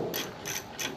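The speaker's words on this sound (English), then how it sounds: "to get these, the side lights out for the turn signals, it's just a 9/32 socket right here" A ratchet turns a 9/32 socket to remove a truck's side turn signal light, giving three quick close clicking bursts in an even rhythm.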